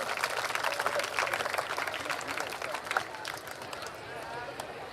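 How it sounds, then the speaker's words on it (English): An audience at a school's annual prize day claps for prize-winning students, a dense, fairly loud patter of many hands that stays steady and then begins to thin out, with a voice speaking over it. "give a big round of applause to encourage these students"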